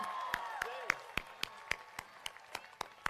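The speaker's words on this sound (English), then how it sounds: "Let's give her a round of applause again." Slow, evenly spaced claps ring out at a high school graduation ceremony, sharp individual hits roughly three per second over quiet voices and faint tonal sound in a large hall.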